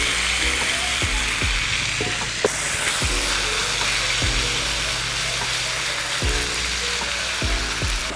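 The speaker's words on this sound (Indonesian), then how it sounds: "Itu suara yang kita cari. Itu namanya sizzling noises." Beef sizzles steadily in a hot wok with black pepper sauce, a dense constant hiss broken by repeated sharp clanks and scrapes of a utensil against the pan, with no voices.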